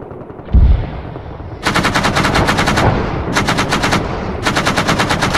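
A Kord .50 heavy machine gun in a video game fires in long, rapid bursts, loud and close, with short gaps between three sustained strings of shots after a single heavy thump.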